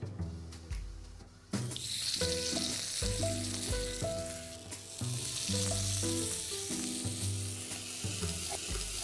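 Rava appam batter hits an oiled appam plate and sizzles, a bright, close hiss that swells after a brief start and continues steadily, with background music running underneath.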